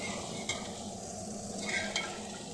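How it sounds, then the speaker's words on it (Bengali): Yardlong beans fry in a pan with a steady, close sizzle, broken by a couple of sharp stirring scrapes. "দেখো বরবটি ভাজা হচ্ছে"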